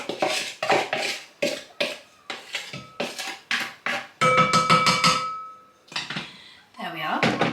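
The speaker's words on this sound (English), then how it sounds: "So I'm just mixing that together." A spoon works through a thick baking mixture with chopped Rolos in a bowl, giving a quick run of rhythmic scraping and clacking strokes close by, with a short pause and a voice near the end.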